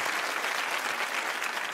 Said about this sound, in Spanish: un aplauso para Nacho, que ha jugado muy bien